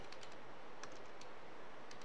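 Quiet, scattered clicks of fingers typing on a computer keyboard, a few quick keystrokes in short irregular bursts against a faint background hiss.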